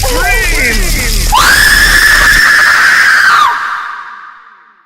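A loud, drawn-out scream from a radio drama rises in pitch and holds steady for a couple of seconds before trailing off, with an earlier wavering voice leading into it.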